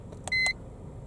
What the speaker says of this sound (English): you can turn the beep off if you want in the menu